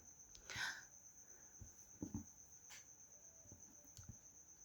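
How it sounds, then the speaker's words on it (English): Crickets at night, a faint steady high chirring that runs the whole way through, quiet and distant, with a few soft knocks and a brief voice. "I'm so sorry if you're hearing the sound of the crickets."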